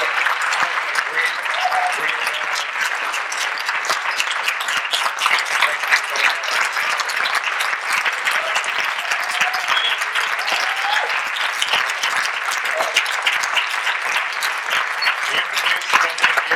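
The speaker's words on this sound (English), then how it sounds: "let's just give a round of applause" Audience at a film premiere in Oakland claps steadily and loudly, a dense, sustained round of applause with no break.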